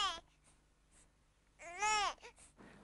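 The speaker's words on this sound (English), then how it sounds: "your baby becomes hungry, and it produces a ne sound." An infant makes short, babbling vocal sounds, including a brief "neh"-like hunger cry, heard up close in a quiet room with pauses between bursts.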